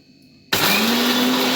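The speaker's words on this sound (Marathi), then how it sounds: "मिक्सरला लावूया आपण बारीक करून घेऊया" Kitchen mixer grinder starts abruptly and runs loudly, grinding roasted chillies with green garlic and garlic greens, its motor whirring up to a steady high speed and churning on without any voices.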